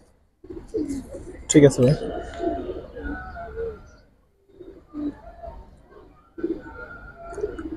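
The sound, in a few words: pigeons cooing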